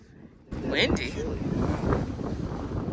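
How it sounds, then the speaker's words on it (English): Strong wind buffets the microphone on an exposed Smoky Mountains summit, a steady loud low roar that surges and swells throughout after a brief quieter start. "I definitely feel the wind."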